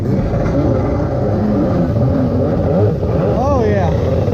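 A SuperFreak jet ski engine runs loud and close with a steady, rough rumble throughout, with a voice talking over it briefly near the end.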